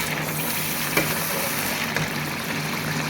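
Boiled mutton fries with masala in a pot for a drumstick mutton curry, producing a steady, moderately loud sizzle with faint stirring knocks at intervals and no talk.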